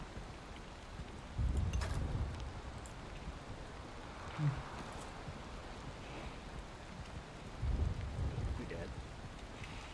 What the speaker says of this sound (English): Raining, raining, raining.